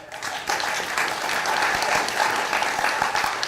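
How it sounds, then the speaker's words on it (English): A theatre audience bursts into applause during a comic stage play, many hands clapping at once in a lively, sustained roar with distinct sharp claps standing out. "How about a round of applause, ladies and gents, for the brave soldier?"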